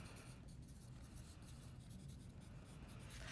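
A pencil writing a name on the back of a sheet of paper, a steady soft scratching that carries on throughout, close and quiet with no talking over it.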